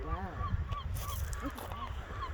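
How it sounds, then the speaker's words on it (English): Birds calling along the Cliffs of Moher in Ireland, repeated honking and squawking calls at middle distance over wind and outdoor background, with faint voices. "Look at all the birds."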